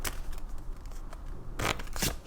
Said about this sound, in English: Let me shuffle this deck because I didn't shuffle this one.